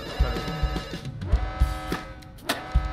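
A telephone rings in Dr. Langeskov, The Tiger, and The Terribly Cursed Emerald, a loud close bell-like tone over rhythmic low thumps of game music, repeating through the moment with no talking.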